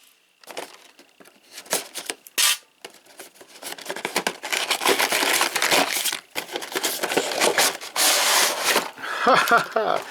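Packaging for a Masterverse Faker action figure is torn and opened, with crinkling plastic, cardboard rips and scraping rustles in irregular bursts that grow busier toward the end.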